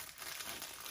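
Shrink wrap crinkles as it is pulled around DIY jewelry packaging for a gift, a brief, faint crackling rustle heard close up on its own.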